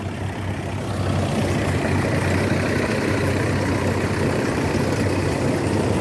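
A thirty-year-old tractor engine idles in a steady, loud, low diesel rumble that settles into an unbroken drone after a brief rise at the start.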